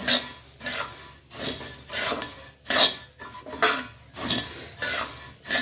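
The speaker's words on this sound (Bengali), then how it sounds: "মুড়ি এবং পেঁয়াজগুলোর সাথে ভালোভাবে মিশে যায়, এই জন্য আমি ভালোভাবে নাড়তে থাকবো" Puffed rice (muri) tossed with onions in a pan, the spoon scraping and clattering against the metal in repeated broad strokes with short pauses between, close and fairly loud with no talk.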